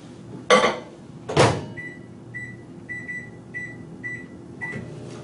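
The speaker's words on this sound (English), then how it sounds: "I'm going to put this back in the microwave." Two thuds like a microwave door shutting, then a series of short keypad beeps as the oven starts with a low hum.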